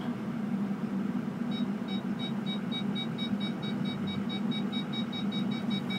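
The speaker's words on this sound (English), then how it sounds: "let's test the backup sensor there." A repeating high electronic beep from the parking sensor of a 2005 Ford F350 diesel pickup pulses rapidly and steadily over a low engine hum, like a reversing warning.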